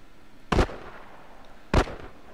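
Two sharp gunshots from enemies in The Last Of Us video game, spaced more than a second apart over a faint steady background, each loud and abrupt with a quick decay.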